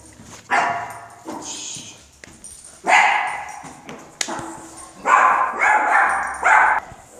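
A dog barks repeatedly outdoors on a snowy winter walk, with sharp yips and barks in uneven bursts, close and fairly loud.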